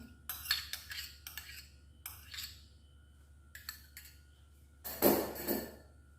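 Butter is stirred into pastry dough in a bowl: a spoon clinks and scrapes against the bowl in short, irregular bursts, close and fairly quiet, with a louder cluster of knocks near the end and no talk.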